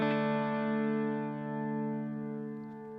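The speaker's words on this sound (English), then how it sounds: "you get this nice lush reverb with a lot of like some bouncing movement with the delays" A sustained electronic tone washed in lush, shimmering reverb, with modulated delay repeats giving it a gently bouncing, swirling movement.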